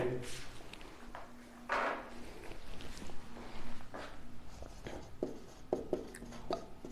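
Chalk or pen writing by hand on a board during a Hindi grammar lesson, heard as intermittent scratchy strokes in short bursts, fairly close, with quiet gaps between words.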